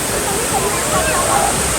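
A waterfall's roar fills a brief stretch, a loud steady rush of falling water in a forested natural setting in Thailand.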